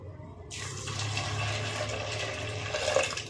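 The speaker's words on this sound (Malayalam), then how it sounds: "ഇതിനകത്തേക്ക് ഞാൻ ഒന്നര കപ്പ് വെള്ളം കൂടി ഒഴിച്ചു കൊടുക്കാനായിട്ട് പോവുകയാണ്" Water poured into a pot of sambar made with fried coconut, a steady close splashing and running stream that begins after a short pause and continues evenly to the end.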